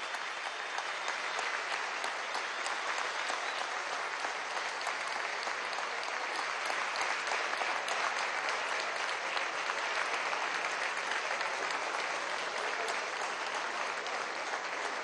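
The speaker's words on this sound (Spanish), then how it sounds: "Rodríguez Chacín, un aplauso para este hombre" Sustained, dense applause from a large crowd at a political party congress, loud and steady throughout with no pauses.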